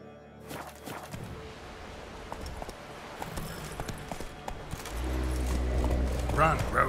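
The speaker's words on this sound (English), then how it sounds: "Run, Roach" Horse hooves clip-clop at a gallop in The Witcher 3, steady rhythmic thuds under game music and ambience, with a rider's voice speaking over them.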